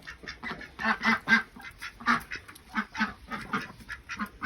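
Several ducks quack repeatedly in a noisy, overlapping chorus, fairly close, with a steady rhythm of loud nasal calls.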